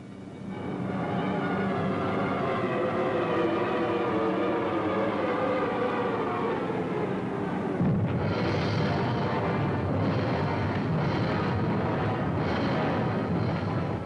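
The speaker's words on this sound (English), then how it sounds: "171 aircraft dropped 145 tons of bombs in a half hour" Aerial bombardment with bombs exploding, from wartime newsreel footage: a continuous heavy roar of blasts and rumbling, loud and dense throughout, with a sharper burst of explosions near the middle.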